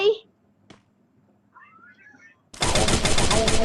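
Burst of rapid gunfire from a shooting video game, loud and dense, erupting after a short quiet stretch with faint game sounds and brief voice.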